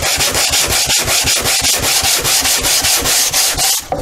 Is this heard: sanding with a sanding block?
yes